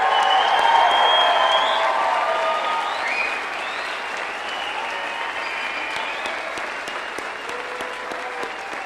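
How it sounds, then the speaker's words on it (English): A large audience at a university commencement applauds the standing graduates, loud sustained clapping with a few cheers that eases slightly after a few seconds but carries on throughout. "Give them a big round of applause."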